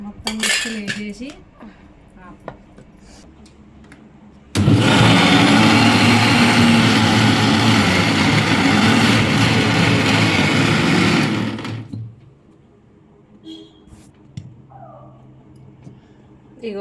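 Mixer grinder grinding fried tomatoes and green chillies for Telangana-style tomato pickle, a loud steady whirring roar running for about seven seconds, switched on and off sharply, with quieter kitchen clatter before and after.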